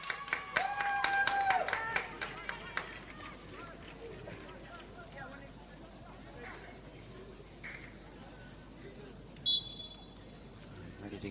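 Scattered crowd clapping as a 23-year-old American footballer leaves the pitch on her debut in a women's league match, light and distant under a commentator's voice, with a brief whistle and buzzer-like tone.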